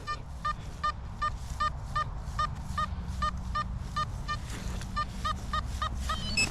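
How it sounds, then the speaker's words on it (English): A Nokta Simplex metal detector in field mode gives a quick run of short, repeating nasal beeps that sound almost like a duck quacking, over steady low background rumble outdoors near the beach. "The tones of field mode with the Simplex."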